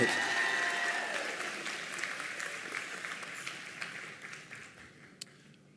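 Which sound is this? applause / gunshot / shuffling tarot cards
applause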